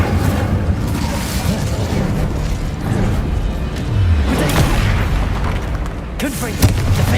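An Incendio fire spell cast in Hogwarts Legacy erupts as a dense, loud burst of booming, whooshing blasts that keeps rolling for several seconds, with a sharper pop near the end.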